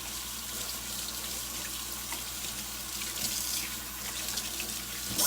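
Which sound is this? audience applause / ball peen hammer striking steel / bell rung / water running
water running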